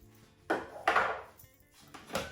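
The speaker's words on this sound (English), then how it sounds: "I'm going to take off the lid and wipe the inside" A lid comes off a bowl of roasting spices: a few close, clattering knocks of lid against bowl, with quiet pauses between them.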